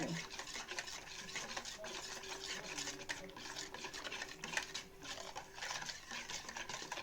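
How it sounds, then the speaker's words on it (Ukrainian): Sugar being stirred into a thin yeast dough batter for pastries, heard as a quiet, continuous swishing and scraping stir with soft irregular knocks against the bowl. "А так, розмішали цукор."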